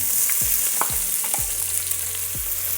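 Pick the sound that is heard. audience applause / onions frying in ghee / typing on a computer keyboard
onions frying in ghee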